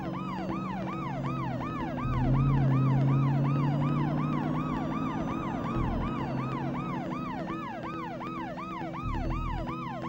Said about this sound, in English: 2 police cars, headlights, blue lights, sirens, wailers